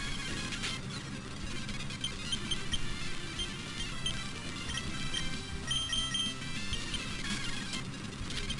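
A Pokémon breaking out of a Timer Ball in Pokémon Emerald: a run of chirpy electronic beeps and squeaks repeats over busy chiptune game music for several seconds.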